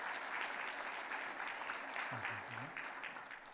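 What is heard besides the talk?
congregation applause of encouragement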